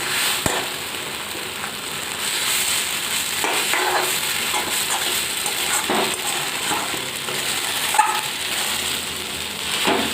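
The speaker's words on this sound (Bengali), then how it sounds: "এবার আমি এটাকে ভাজবো ম্যাগিটাকে" Maggi noodles frying in a pan for a spicy recipe, a steady close broadband sizzle running the full length with occasional stirring scrapes and clicks, no talking.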